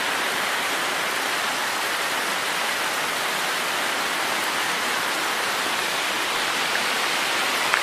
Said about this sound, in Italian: Grandina pure, oh, grandina.